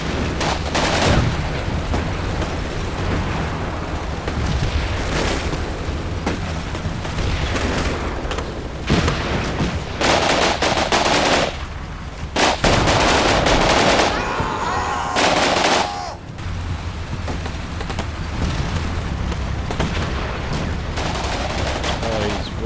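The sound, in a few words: gunfire in Combat Mission Black Sea video game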